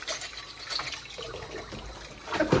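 Tap water runs over disassembled motor parts being rinsed in a sink, a soft continuous splash that grows louder and fuller toward the end.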